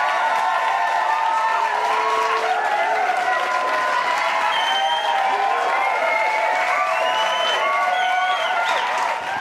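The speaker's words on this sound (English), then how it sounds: "and the crowd goes nuts" A crowd applauds and cheers loudly and steadily for the full stretch, with whistle-like cheers rising above the clapping.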